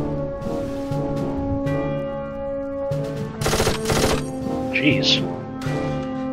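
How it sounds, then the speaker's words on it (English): Gunfire in the first-person shooter Darkest of Days: bursts of rapid shots ring out amid a droning musical backdrop, with a voice reacting briefly between volleys. "Where are these shots coming from?"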